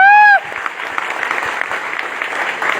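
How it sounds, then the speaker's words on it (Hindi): Applause from an audience at a village business gathering in India, a steady dense patter of clapping across the clip, opening behind a short bright tone before settling into even, moderately loud hand claps. "उनके लिए जोरदार तालियां"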